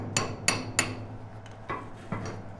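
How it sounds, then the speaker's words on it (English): Sharp metallic knocks as slag is chipped off freshly plasma-cut metal that has cooled a little, five distinct strikes, three quick ones then two more spaced apart, close and fairly loud against a low steady hum. "this slag's gonna be a little harder to remove"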